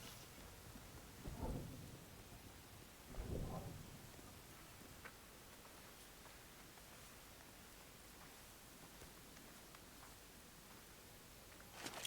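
A steady, broadband rain-and-wind hiss from a thunderstorm in Unknown 9: Awakening fills the scene, with two low rumbles of thunder rolling in early on and then a constant storm wash with no talking.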